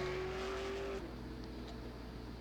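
A V8 Supercar drifts around the track after a race during a burnout session, its engine holding a high steady note for a second before dropping back to a rough, throaty idle-like rumble at moderate distance.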